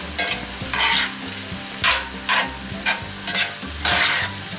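Corn and peppers with maple bacon sautéing in a cast iron pan, a steady sizzle broken by repeated scraping strokes of stirring at an irregular rhythm, close and fairly loud with no voices.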